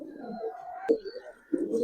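Big Indian Kaldam pigeons cooing close up in a pair, soft throaty rolling coos repeating in short bursts, with someone talking over them.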